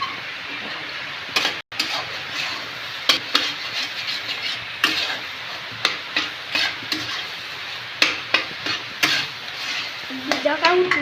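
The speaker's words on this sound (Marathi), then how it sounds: "छान मिक्स करते आणि दाखवते. मस्तपैकी अंड्याची भुर्जी झालेली आहे." Egg bhurji frying and sizzling in a pan, stirred with a spoon in a steady series of close scrapes and taps against the pan over a continuous sizzle.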